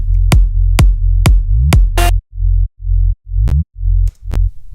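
Deep, clean bass notes built from two stacked sine tones an octave apart, played in a repeating pattern of short pulses with a few sharp clicks, loud and alone.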